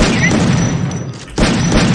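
Loud, sustained rumbling blasts fill the whole clip, with a brief dip before another heavy burst of explosive noise, like a game grenade going off.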